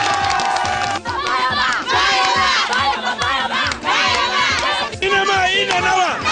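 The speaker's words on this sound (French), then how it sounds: "Alors on applaudit Vitesse." A loud crowd of young voices at a school competition semi-final shouts, chants and cheers with steady intensity. Brief dips break the cheering and it surges straight back.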